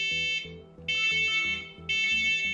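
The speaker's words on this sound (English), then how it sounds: "there are wireless interconnected smoke alarms available" Wireless interconnected smoke alarms in a home sounding together, a loud, piercing electronic beeping in repeated pulses over a low rhythmic throb.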